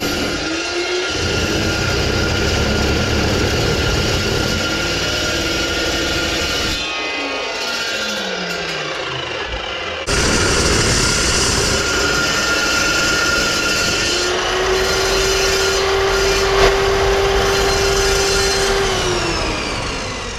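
A power saw grinds steadily through a metal workpiece for a feed wagon's stabilizer legs, loud and continuous for about twenty seconds, with a brief change in pitch as the blade binds partway through.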